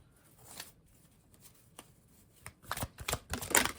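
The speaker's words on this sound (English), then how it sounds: "It doesn't make it harder to shuffle." An oracle card deck is shuffled close by, soft papery riffling that starts quiet and sparse and then builds into louder, rapid bursts of cards rubbing against each other.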